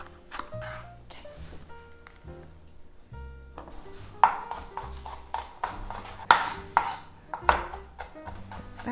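Chilies are chopped with a knife on a cutting board for a Korean squid soup, making a run of close, crisp taps that come in quick bursts with short pauses, over soft background music.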